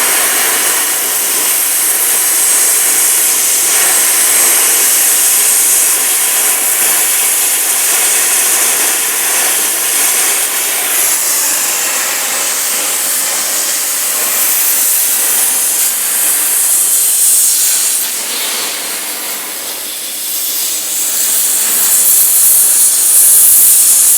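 A Bestarc BTC500 plasma cutter running on 220 volts slices through half-inch steel plate with a steady, loud, hissing roar that holds for the whole cut and surges slightly near the end.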